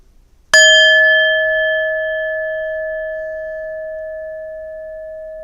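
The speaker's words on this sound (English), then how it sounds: "try to do a resonant bell." A resonant meditation bell is struck once, sharp and loud, then rings with a clear sustained tone that fades slowly over several seconds in an otherwise quiet room.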